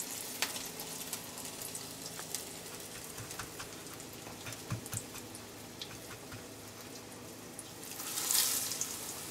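Eggplant frying in hot oil, a soft continuous crackle of fine popping spatters at moderate distance, with a brief louder hiss near the end.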